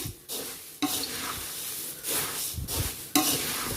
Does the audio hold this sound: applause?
no